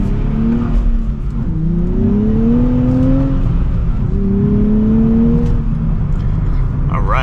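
A 2024 Nissan Z Performance sports car pulls away and accelerates hard, its engine note climbing steadily through two long rising sweeps, loud and close from inside the cabin.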